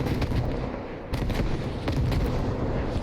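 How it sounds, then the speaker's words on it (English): A moving artillery barrage in Squad rumbles as a steady wash of heavy, booming impacts with sharper cracks breaking through, sustained and fairly close. "here comes a moving barrage for thinking that's the VAC moving barrage coming through"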